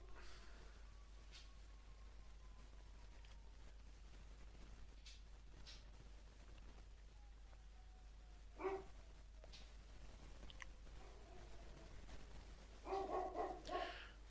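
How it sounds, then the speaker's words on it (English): Dogs indoors bark at another dog outside, heard faintly in a few short, scattered bursts, the clearest near the middle and at the end, over a quiet, steady background hum. "My dogs heard another dog outside."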